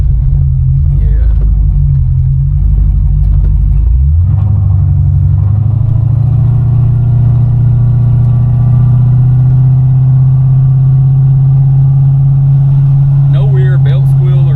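A 1988 Chevrolet Caprice engine idling in neutral, a loud steady low rumble close by that settles after a brief shift, with someone talking briefly at the start and end.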